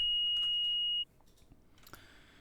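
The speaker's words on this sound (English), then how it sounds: "So I couldn't hear the beep because I was outside the zone." A steady high electronic stun grenade beep in Unreal Engine 5 holds for about a second, then cuts off, leaving faint quiet rustling and a brief click.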